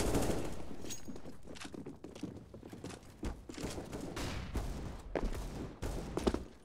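A decoy grenade in a shooter video game faking gunfire, giving off rapid irregular bursts of pops and cracks like a distant firefight, fairly quiet and continuous.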